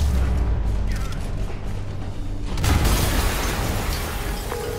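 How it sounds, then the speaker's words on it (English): A loud explosion erupts in the Marvel's Spider-Man PS4 video game, a sustained roaring blast with a sharp surge about two and a half seconds in, over continuous game rumble and low sound effects. "an explosion just... I saw it."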